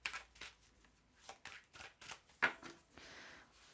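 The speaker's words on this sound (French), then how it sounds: "Je remélange les cartes." A deck of cards being shuffled in several quick riffles and soft flutters, close and quiet, with short pauses between bursts.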